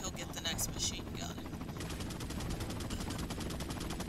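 Rapid bursts of gunfire from an Apache helicopter in Resident Evil 4 rattle in a fast, even rhythm, with earlier shots and explosions leading into a steady machine-gun stream under a low rumble.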